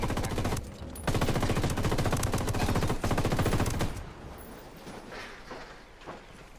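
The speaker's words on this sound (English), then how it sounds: "Got some rebels trading shots." Rapid automatic gunfire trades back and forth in Ghost Recon Wildlands, loud dense bursts for about four seconds before dropping to scattered, more distant shots and echoes.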